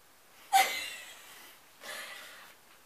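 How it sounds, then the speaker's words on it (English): Two short, breathy sniffs right against the microphone, the first sharp and loud and the second softer a second later, then quiet. "Are you just sniffing me again?"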